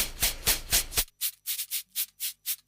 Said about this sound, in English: that sounds like a cabasa that Dom played.